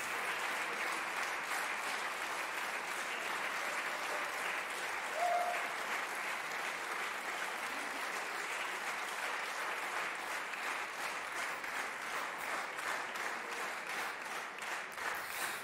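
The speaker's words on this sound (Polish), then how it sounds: "Wielkie brawa dla wszystkich laureatów." Sustained audience applause for the laureates of a national vocal competition honoring Stanisław Moniuszko, a steady dense clapping crowd filling the hall for about fifteen seconds without letup.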